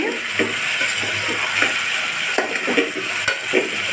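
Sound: stirring goat head curry with onions in a pan

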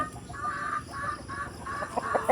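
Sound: roosters clucking before feeding

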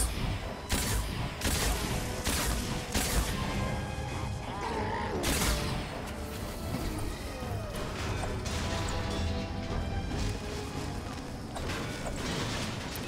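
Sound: gunfire in Fortnite video game

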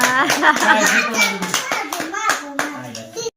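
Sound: child clapping hands

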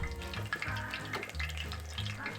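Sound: mini squid frying in spattering oil

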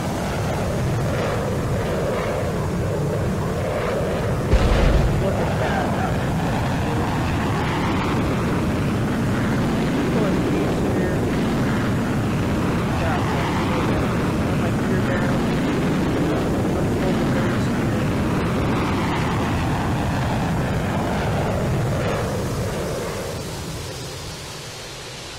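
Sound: F-14 Tomcat breaking the sound barrier in Roblox video game

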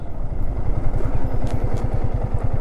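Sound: motorcycle engine

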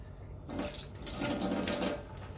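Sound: water running while bathing a cat

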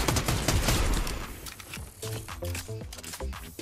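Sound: gunfire in the video game Fortnite

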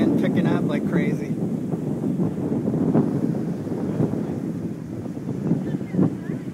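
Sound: strong wind picking up during tornado weather

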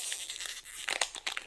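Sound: tearing open a single Magic card booster pack

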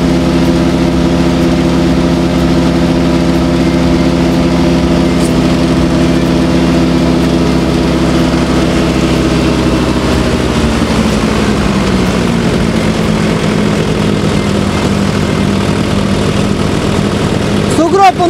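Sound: diesel tracked snow blower Caiman Edo 48YD engine running

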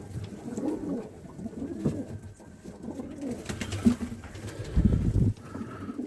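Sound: pigeons cooing

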